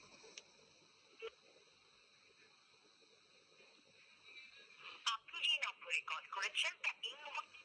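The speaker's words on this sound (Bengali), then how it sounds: "আমরা ফোন দিচ্ছি, ওনার সঙ্গে কথা বলবো, সকলেই শুনবেন।" An outgoing telephone call rings with a steady electronic tone for about five seconds at a trade fair in Shimultoli, Gazipur, and then voices speak over it.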